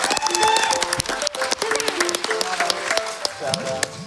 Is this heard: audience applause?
yes